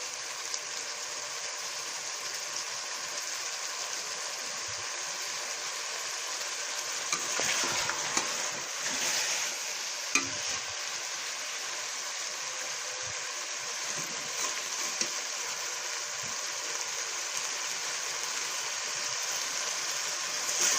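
Boiled potatoes with chonge (Caralluma fimbriata) sizzle and fry steadily in a pan over high heat, a constant loud hiss with occasional stirring scrapes, no talking.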